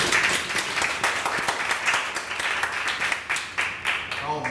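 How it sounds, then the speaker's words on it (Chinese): An audience at a small startup storytelling talk event claps together, a dense, fairly loud patter of hands that holds steady for several seconds. "请大家给我们自己一个掌声"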